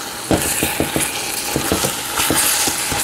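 Szechuan sauce, mixed herbs and kasuri methi stirred in a hot pan, a steady sizzle broken by repeated scraping strokes of a spoon, close and fairly loud throughout.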